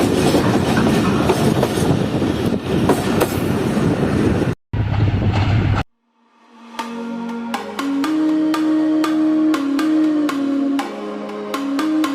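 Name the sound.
passenger train running on rails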